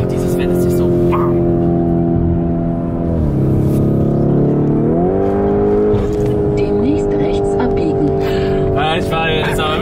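A Lamborghini Urus SUV engine roars loudly and steadily while driving on a road, its pitch rising and dropping with gear shifts, under speech from people inside the car.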